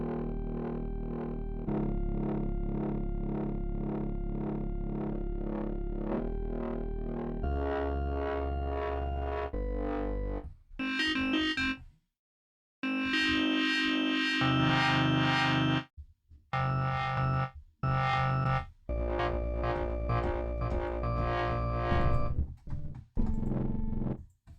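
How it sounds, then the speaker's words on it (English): A phase modulation synth in Bitwig's Phase-4 plays sustained, gritty, distorted tones that shift through several pitches and textures, then break into choppy stabs with short silent gaps, heard alone. "I love phase distortion or phase modulation."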